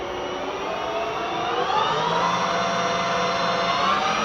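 Clausing Colchester 13x30 engine lathe running at speed with its motor and gearing giving a steady, loud, tonal whine that rises slightly in pitch, close by with no talking.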